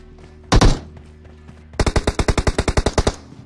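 Video game gunfire in a multiplayer battle royale match: a short loud burst, then a rapid run of about fourteen evenly spaced automatic shots, close and sharp with no talking.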